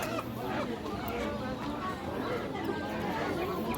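Chickens cluck amid the busy bustle of the Beruniy poultry bazaar, the birds mixed into constant crowd chatter and people talking nearby.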